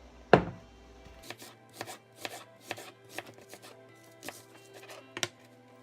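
A knife chops roughly through onions on a cutting board: a heavy first thud, then a loose, uneven series of about a dozen close, crisp chops with no speech.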